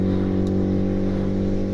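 Honda Civic with a turbocharged R18 engine running an open downpipe and no exhaust, giving a steady, loud droning engine note that holds an even pitch throughout, with no voices.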